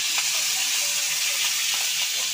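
Chopped ginger and green chilies sizzle steadily in hot oil in a kadai, a constant bright frying hiss with faint crackles throughout, no voices.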